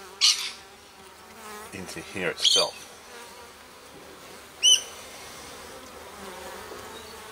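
Bees buzz steadily around an opened backyard beehive after a little smoke is puffed at it, a close, continuous insect drone with brief louder swells and short clunks of handling, while someone talks briefly over it.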